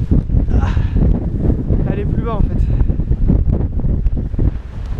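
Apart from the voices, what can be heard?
strong wind at a mountain pass in Ireland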